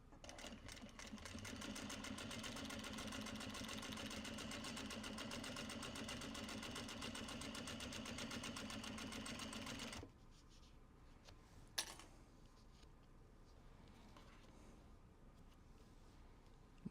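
A sewing machine stitches a Stitch & Go case, running steadily and loudly for about ten seconds before stopping, followed by quieter handling noises and a brief knock.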